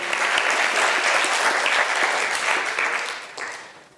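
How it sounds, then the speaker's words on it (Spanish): Church congregation clapping for the King during a worship service, a dense steady burst of applause for about four seconds that thins near the end, with no talking. "denle un aplauso al Rey"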